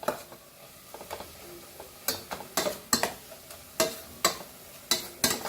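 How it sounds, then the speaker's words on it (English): Masala for a Goan chicken curry sizzles in oil in a pan, with a low frying hiss broken by sharp, repeated scraping clinks of a spoon stirring against the pan, close and fairly quiet. "Fry this for 5 minutes."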